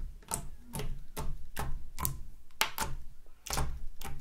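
Green and clear transparent slime being squeezed and pressed, giving a run of about nine crisp, close clicks and pops spaced roughly half a second apart.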